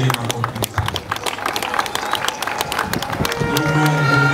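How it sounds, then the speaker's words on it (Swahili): An audience at a public gathering in Tanga applauds steadily, with dense crowd clapping and scattered cheers building slightly toward the end. "naomba mpigie makofi sana."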